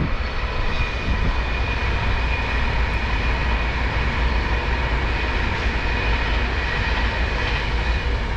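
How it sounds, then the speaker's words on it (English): An Avanti West Coast train crosses a railway bridge over the Birmingham Main Line Canal, a steady, loud broadband rumble and roar that holds through the whole stretch, close by and with no voices. "I think that was an Avanti West Coast"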